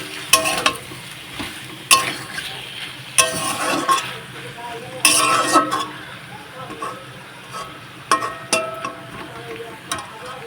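Ginger-garlic paste stirred in a frying pan, with intermittent bursts of scraping and sizzling from the spatula over a low steady hiss, moderately close.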